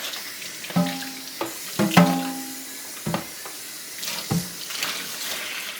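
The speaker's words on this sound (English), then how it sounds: "I just kind of run some water and empty the pulp" Tap water runs at a kitchen sink while Breville juicer pulp is rinsed out by hand. Several sharp knocks and ringing clinks of parts stand out over the water, and no one speaks.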